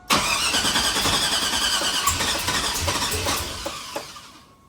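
A car engine cranks without a break after a cam swap on a Sierra build, a steady loud starter grind lasting several seconds before tapering off near the end, with no voices.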